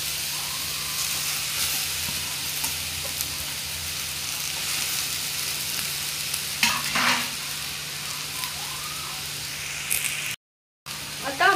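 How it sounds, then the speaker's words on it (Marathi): Sheglyachi vegetable stir-fried with onion in a pan makes a steady hissing sizzle, with occasional soft stirring scrapes and a brief dropout to silence near the end. "आता आपण ही व्यवस्थित परतून घेऊया. हळूहळू हलक्या हाताने भाजी छान परतून घेऊया."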